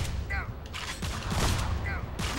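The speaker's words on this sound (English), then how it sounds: "I'll switch to shotgun." A shotgun fires in Manhunt 2, with several punchy blasts in quick succession, close and loud, among other combat noise.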